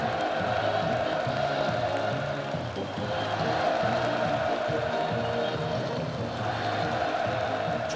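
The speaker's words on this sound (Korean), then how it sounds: "격종의 환호에 실려 2월의 하늘가에 끝없이 메아리 쳤습니다" A large crowd cheers continuously at a housing construction groundbreaking ceremony in Pyongyang, a dense, steady roar of massed voices mixed with band music throughout, with no break in the sound.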